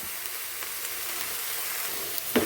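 Okra frying with salt in a pan makes a continuous, close hiss of sizzling oil, even and fairly soft, with a brief clatter right at the end and no voices.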